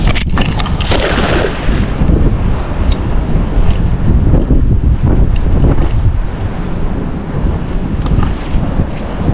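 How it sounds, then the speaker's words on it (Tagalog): Strong wind blows across the open sea from a boat, roaring and buffeting the microphone loudly and continuously, with wave wash beneath and no talk. "Malakas po ang hangin."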